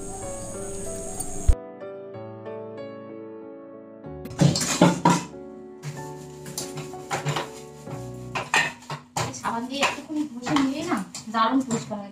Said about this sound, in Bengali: তাই বাসন বেশি নেই মেজে নিচ্ছি